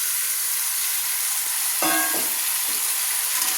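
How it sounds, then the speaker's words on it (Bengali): Marinated chicken hits onions in a hot pan for a Bengali coriander-leaf chicken curry, with a steady loud sizzle and frying hiss throughout and a brief clatter partway in. "এবার আমি এই পেঁয়াজের ওপর দিয়ে দিলাম ম্যারিনেট করা চিকেন।"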